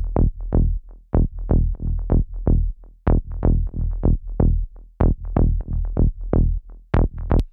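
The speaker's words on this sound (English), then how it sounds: "You can hear it's a really fat saw bass" A fat saw bass synth from a melodic techno track plays a bouncy pattern of short, punchy notes in a steady driving rhythm, loud and dry with nothing else beneath it.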